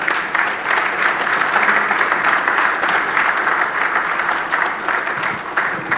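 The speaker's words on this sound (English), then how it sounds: "A round of applause once more for him." An audience claps in steady, sustained applause at a Nigerian conference on infrastructure and consulting, dense and even from start to finish.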